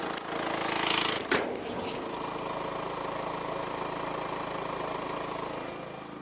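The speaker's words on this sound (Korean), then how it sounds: "엔진룸 닫게 되면은" A Peugeot 2008 with a 1.6 diesel engine idles with the hood closed, giving a steady, even mid-level hum that runs unbroken throughout, with one brief click early on and no talking.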